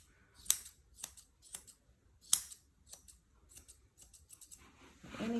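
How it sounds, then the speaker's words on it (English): Scissors snip through a dog's fur during an Asian-style grooming session, giving about a dozen crisp, close cuts in irregular bursts, with a brief rustle at the end and no talking. "I like to use scissors because it leaves it nice and plush."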